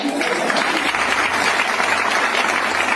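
Audience at a business motivational meeting applauding, a dense, loud, continuous burst of many hands clapping close by with no break.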